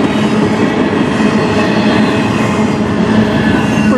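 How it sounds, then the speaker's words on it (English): A loud, continuous rumble of a long CN intermodal train led by SD70M-2 locomotives rolling past close by in Strathroy, steady rail noise with rhythmic clatter and no pauses. "Pretty long train."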